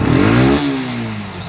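A Yamaha FZ16 motorcycle engine revs hard under a blipped throttle, then the pitch sags as the revs fall back toward idle, close and loud with a mechanical clatter running underneath.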